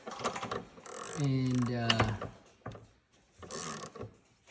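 Ratchet tightening a bolt on a Ski-Doo snowmobile track, with close bursts of clicking at the start and end around a rising whirring pull, and a brief word spoken.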